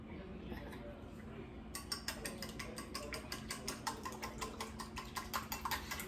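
A small egg whisk beating an egg in a bowl for pierogi dough: after a brief quiet start comes a rapid, even run of light metallic clicks and taps, close and fairly soft.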